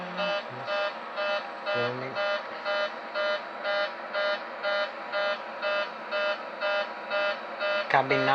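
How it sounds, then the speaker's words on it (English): A Boeing 737-800 cabin pressurization warning in Microsoft Flight Simulator X sounds as a loud, repeating intermittent horn with regular pulses. Brief talk is heard at the start and the end. "So this is the cabin pressurization warning."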